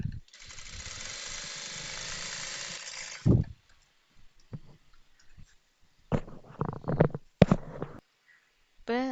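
A sewing machine runs close by, stitching the edge of a petticoat: a steady whirring run of about three seconds, then after a pause several short stop-start bursts.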